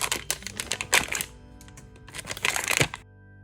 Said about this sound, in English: But let's unwrap all of these and get them ready to play with.